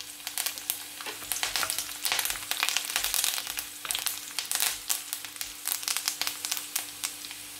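Curry leaves and urad dal frying in oil over a low flame for a tamarind curry, crackling pops and spits over a continuous sizzle, close and without talk.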